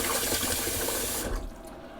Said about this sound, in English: I didn't put enough water in the sink.